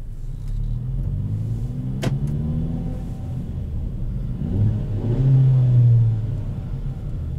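A 2021 Kia Forte GT with a six-speed manual gearbox hums with a steady, close engine drone, then the revs climb into a louder, rising note near the end, with no talking.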